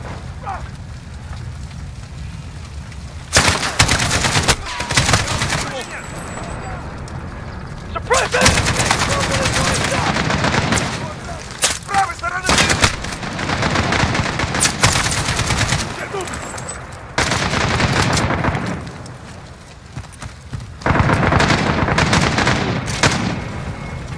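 Heavy machine gun fire in Call of Duty: Modern Warfare (2019), loud sustained bursts of automatic shots broken by short pauses, with battle noise and shouted voices between bursts.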